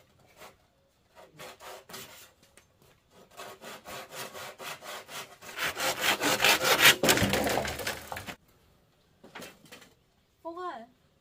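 Rhythmic rasping strokes of a hand saw cut through bamboo, growing louder and denser toward the end, with brief bits of talk before and after.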